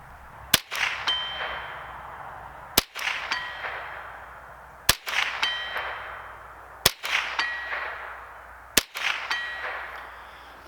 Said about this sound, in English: Let's go ahead and take a couple shots without the ears on